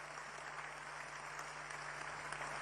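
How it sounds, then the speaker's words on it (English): A rousing round of applause for the national chairman at a National Democratic Congress gathering, a dense, even crowd clapping heard from some distance, sustained with no speech over it. "Shall we give our national chairman another rousing round of applause?"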